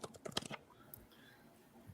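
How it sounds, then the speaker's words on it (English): A faint, quick burst of crisp clicks like keys being pressed runs through the first half-second, then the rest fades to near silence. "I hear clicking."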